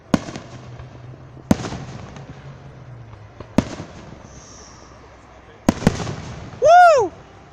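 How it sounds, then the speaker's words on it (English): Fireworks show in Florence, Kentucky, on July 3 burst in several loud, sharp booms spaced a couple of seconds apart, followed by crackling, with a whistling rocket near the end and a low crowd murmur underneath. "This is like an exciting fireworks show."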